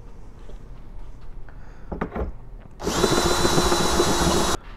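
A power drill bores a bolt hole for a Fresh Air Exhaust muffler on a 2006 Mastercraft Maristar boat. A few light handling clunks come first, then a loud, close, steady whirring burst of about two seconds that stops abruptly.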